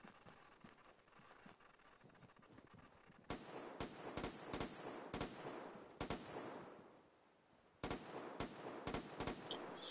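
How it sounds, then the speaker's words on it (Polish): Bursts of machine gun fire in the online shooter Vigor, sharp rapid volleys with short pauses between them, fairly close and loud, no talking. "Słyszę karabin maszynowy"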